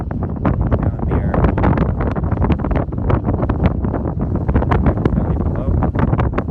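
Strong, cold gusty wind on a high overlook in Death Valley National Park buffets the microphone in loud, continuous roaring bursts with constant rumbling.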